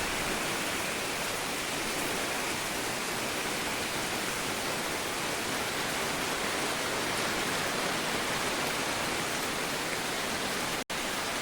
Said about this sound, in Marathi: आज पाऊस सकाळपासून खूपच आहे